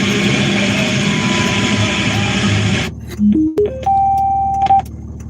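A car engine with a suspected bad fuel filter runs steadily, then abruptly cuts out, leaving quiet broken by a few rising electronic chime-like tones and faint clicks.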